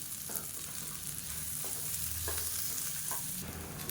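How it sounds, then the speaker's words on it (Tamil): Dry red chillies and grated coconut fry for kuruma with a continuous close sizzle, while a few spoon scrapes and stirs cut through it. "இப்போ இது எல்லாமே நல்லா வதங்கிடுச்சு"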